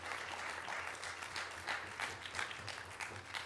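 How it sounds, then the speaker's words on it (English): A live audience claps steadily for a few seconds, a dense wash of applause at moderate distance with no voices rising above it. "Please give him a big round of applause"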